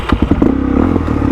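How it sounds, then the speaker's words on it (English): A motorbike engine with a badly set carburetor idles roughly and unevenly, a close, loud, lumpy low rumble with irregular clattering pulses and no steady beat. "My bike is not happy though. I've got to get this carburetor sorted. Not wanting to idle well at all."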